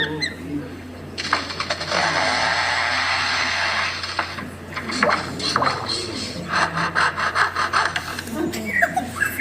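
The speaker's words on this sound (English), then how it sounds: "And now the sounds of foresters and their chainsaws working nearby." Foresters' chainsaws working nearby in Australia buzz in steady, sustained bursts, revving and easing off repeatedly over a low constant hum.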